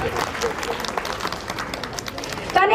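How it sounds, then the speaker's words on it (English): Audience at a school award ceremony applauds the winners, with steady broadband clapping throughout and a brief louder burst near the end. "Give a round of applause everyone for the winners."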